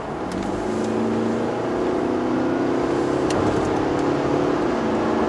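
Mercedes-Benz GLE 350 de 4MATIC diesel engine pulling hard under acceleration from about 80 km/h, a loud, steady drone with road roar from inside the cabin and no speech.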